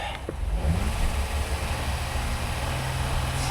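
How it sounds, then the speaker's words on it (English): A Honda Pilot V6 engine runs steadily with a low droning hum and a faint underlying knock consistent with a worn wrist pin, heard close and continuous without speech. "That one sounds like a combination of top and bottom, like it's got a wrist pin making noise or something."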